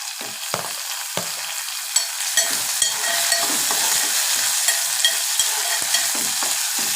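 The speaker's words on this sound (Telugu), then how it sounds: "నూనె అయితే కాగింది కదా ఉల్లిపాయలు పచ్చిమిర్చి" Onions and green chillies frying in hot oil for a brinjal chutney, a continuous bright sizzle with a few sharp stirring knocks, close and steady throughout.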